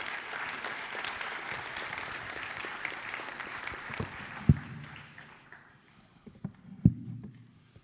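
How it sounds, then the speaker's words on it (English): A Boys State audience applauds candidates after their speeches, a soft, fairly distant patter of clapping that fades out midway, leaving a few isolated thumps and a quiet room. "Give them a round of applause."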